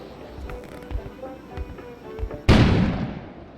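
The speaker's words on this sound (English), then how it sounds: "An explosion suddenly occurred outside." In a video game, after some quiet shuffling and thumps, a sudden loud explosion booms and rumbles, decaying over the final second.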